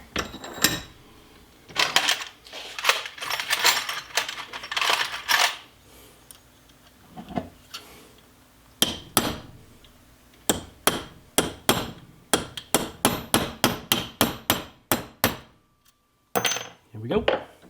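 A hammer and punch drive rivets out of a Galil rifle receiver during demilling: sharp metallic strikes come in irregular bursts, some single and some in rapid runs of blows, close and loud with short pauses between.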